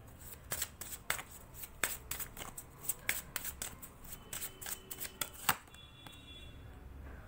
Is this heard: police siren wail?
no